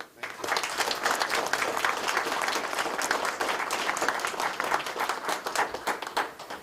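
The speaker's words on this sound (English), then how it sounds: "And a big round of applause for the leader." A community audience applauds opposition leader Pierre Poilievre at a mosque visit with a steady, dense round of clapping from many hands, moderately distant and sustained.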